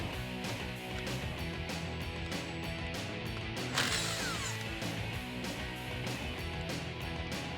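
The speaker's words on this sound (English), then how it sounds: "we're going to start with a 19mm socket and get that setup off" A 19mm socket wrench ratchets with rapid, regular clicking throughout, removing a nut and bolt from a Jeep Wrangler YJ steering stabilizer, broken by a brief metallic clank near the middle.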